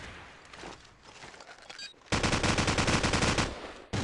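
Rapid automatic gunfire in Call of Duty 4 during a competitive match, starting faint and scattered, then a loud, dense burst of shots lasting over a second before cutting off.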